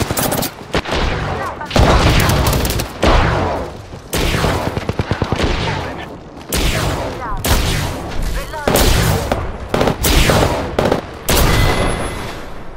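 Rapid bursts of gunfire from the video game Apex Legends crackle loud and near, in repeated volleys and sustained automatic strings with short gaps, and scattered voices are heard between and under the shots.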